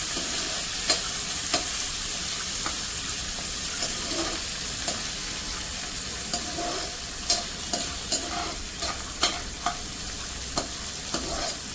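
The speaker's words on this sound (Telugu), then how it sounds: "పచ్చి స్వీట్ కార్న్ వేసుకోండి. ఇప్పుడు ఉడికిపోతాయి." Raw sweet corn kernels stir-frying in a pan for paneer fried rice, a steady sizzle broken by sharp spatula scrapes and taps at irregular intervals, close and fairly loud, with no talking.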